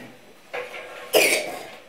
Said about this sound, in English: stop coughing.